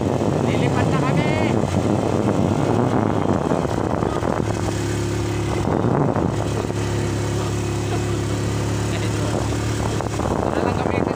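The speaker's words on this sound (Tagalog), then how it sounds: "Ito na lang gamitin namin na drone." Drone propellers buzz in flight over a mountain viewpoint, a steady motor whir under heavy wind rush that grows more tonal and even partway through, with no talking.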